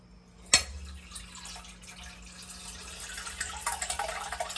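Apple rye mash pumps into a secondary container as a faint, steady trickle and splash of liquid, opening with one sharp knock and building into a denser gurgle toward the end, with no voices.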